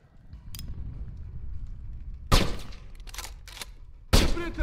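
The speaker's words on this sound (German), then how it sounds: "Okay, knall den Typen am Fenster ab." Gunfire in the video game Sniper Ghost Warrior 2: a low rumbling background broken by a few sharp, loud shots and a quick burst, with brief mechanical clicks between.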